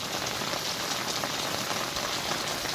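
Steady morning rain patters on surfaces in an even, continuous hiss, fairly close, with no voices.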